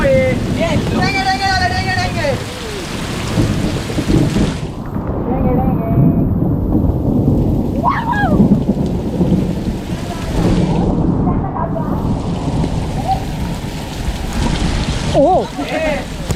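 First monsoon rain in the Konkan hisses steadily with low rumbling that suggests thunder, while voices talk over it intermittently and some whistling tones rise through the first seconds.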